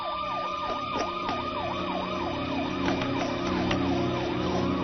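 A police siren wails loud and steady, its pitch rising and falling in rapid repeated sweeps over a rumbling vehicle background with sporadic clatter.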